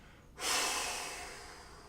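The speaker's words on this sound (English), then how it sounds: "Long exhale" A single long, steady exhale through the mouth during a guided breathing exercise, close and breathy, starting abruptly after a brief pause and slowly tapering off without any talking.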